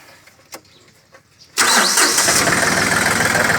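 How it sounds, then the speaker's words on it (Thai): Quiet background with a few faint knocks, then a Yanmar diesel tractor engine cranks and roars to life, settling into a loud, steady rumble. "ต่อไปก็จะมาทำการ รีวิว ตอนเสียงเครื่องก่อนครับอันนี้"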